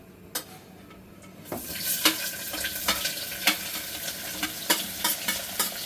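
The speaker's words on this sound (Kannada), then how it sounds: "ಇವಾಗ ನಾನು ಈರುಳ್ಳಿ ಹಾಕ್ಕೊತಾ ಇದ್ದೀನಿ." Chopped onions hit hot oil already holding bay leaf, cinnamon, cloves, cardamom and fennel for chicken biryani. A sudden sizzle swells into steady frying, with repeated sharp clinks and scrapes of a spoon stirring against the pan.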